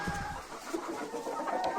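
A farmyard flock of chickens, many of them young roosters, clucks and calls close by in a busy, overlapping chorus that runs throughout without pause.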